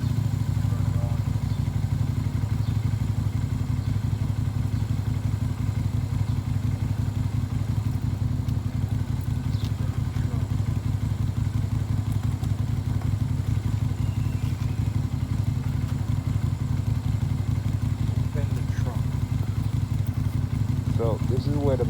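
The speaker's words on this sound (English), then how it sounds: "First thing is, I'm going to start the bike." A Lifan Lycan V16 LF250-D motorcycle engine idles nearby with a steady, even low rumble and light mechanical clatter that run throughout.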